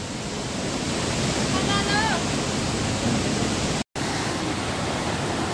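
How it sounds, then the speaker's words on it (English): Steady, loud roar of rushing water from a mountain waterfall at Langvoku, Karbi Anglong, filling the whole clip, heard close by, with a brief dropout near the end and no clear talk. "This is waterfall."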